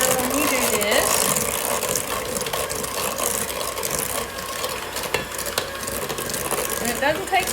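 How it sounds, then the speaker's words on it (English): A hand mixer beats banana bread batter at medium to medium-high speed, a steady whirring drone with rattling beaters against the bowl, close and continuous. "as you have your beater going at medium to medium-high speed"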